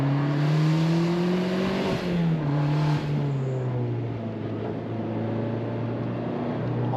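Turbocharged Mazda ND Miata driving, its engine droning steadily and clearly up close from inside the cabin, with pitch rising and falling through gear changes and throttle shifts, no voices.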